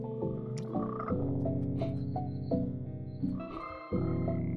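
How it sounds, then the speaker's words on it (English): Bridge frog in the Frogmonster video game, a series of deep, resonant croaks in close succession, loud and near with sustained tonal bursts. "Bridge frog."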